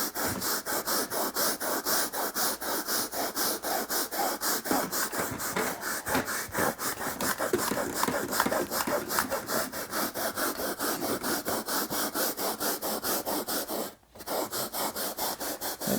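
Carpet being scrubbed with a Bissell Little Green portable cleaner, a steady rapid back-and-forth brushing rasp that continues nearly unbroken, with one brief pause near the end.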